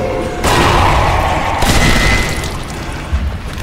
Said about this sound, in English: Now it's time for a grenade.